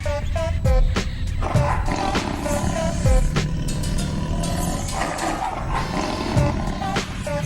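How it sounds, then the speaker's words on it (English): A deep roar plays as an Easter egg on a golf course in a golf video game, booming loudly and continuously with a couple of swelling bursts, resembling a big cat's roar layered over dense ambient noise, with no voices. "a sound will play, which sounds like a dragon's roar"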